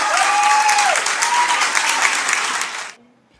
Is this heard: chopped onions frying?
no